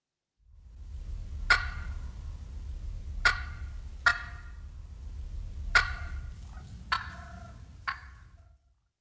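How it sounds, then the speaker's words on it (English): Six sharp, staccato wild turkey clucks ring out at irregular spacing, each a short clear note standing alone over a soft low background hum. "The next vocalization that we're going to discuss is the cluck."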